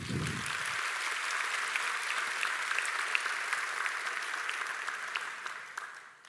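Sustained audience applause at a Stellenbosch University science graduation ceremony honoring the Symphonic Wind Ensemble, a dense, steady wash of many hands clapping that carries on for several seconds before tapering off near the end.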